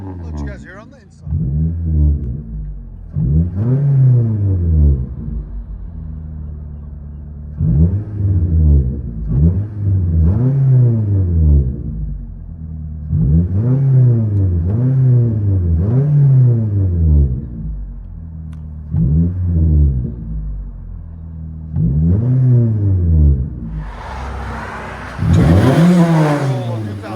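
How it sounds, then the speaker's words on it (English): A 2014 Toyota Corolla S 1.8L inline-four with a muffler delete is revved loud and close in a long series of sharp throttle blips, each rising and falling quickly, with short idle gaps between them. "That's the customer revving it, guys."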